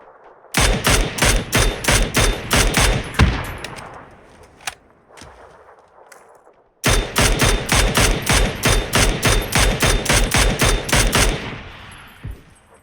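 Automatic gunfire in the PUBG shooter game comes in two long series of rapid, sharp, evenly spaced shots. The bursts are loud and close, separated by a short gap with scattered single shots.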